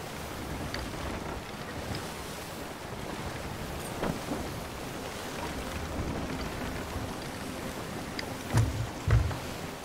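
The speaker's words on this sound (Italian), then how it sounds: "Guarda che tira dall'altra parte il vento" Wind buffets a boat out at sea, a constant rushing roar against the microphone over the wash of waves. Two heavier thumping gusts or splashes hit near the end.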